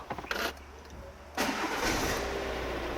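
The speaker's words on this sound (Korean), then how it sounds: "자, 이어서 시동 한번 걸어볼 건데요." Push-button start of a recent imported SUV nicknamed a mini G-Wagon: a brief cranking burst, then the engine catches with a loud rise and settles into a steady, close idle hum.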